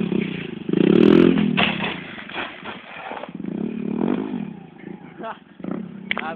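A Brazilian motorcycle, in use for wheelies, makes a rough engine drone that swells and revs unevenly while it clatters and rattles. Someone talks over the noise.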